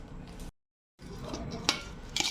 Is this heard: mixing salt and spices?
yes